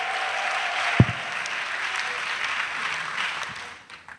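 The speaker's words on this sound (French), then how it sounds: "Acclamation." Audience at an annual retreat of national missionaries in Côte d'Ivoire breaks into steady applause and cheering, a dense wash of clapping that carries on evenly, with a sharp knock near the start, before fading toward the end.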